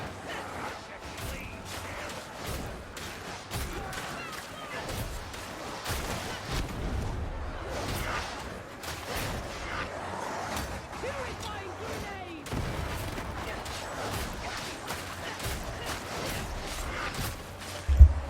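Grenade blasts in Warhammer 40K Darktide amid a chaotic fight, with repeated sharp bangs and thuds scattered through a steady din of combat, and a voice talking over parts of it.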